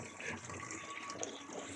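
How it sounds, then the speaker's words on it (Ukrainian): Tap water runs steadily into a bucket outdoors, a continuous moderate splashing hiss that holds at an even level for the whole stretch with no voices over it. "пустили воду. Зараз будемо набирати."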